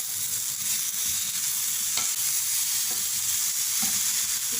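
Finely chopped medium tomato going into a pan of browned frying onions, giving a steady, bright sizzle with a few soft stirring clicks, close and constant, with no voices.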